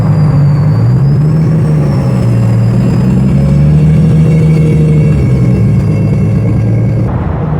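A heavily modified car fitted with a body kit, turbo and HKS stickers, in Japan, holds a steady loud engine drone with wavering revs throughout, close by and without talk.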